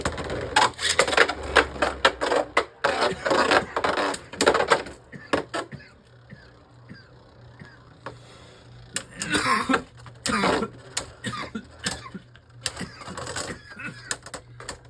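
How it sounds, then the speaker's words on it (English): Repeated harsh coughs in quick bursts, close and loud, with short pauses between spells and a low hum underneath. "I was having a coughing fit there for a second."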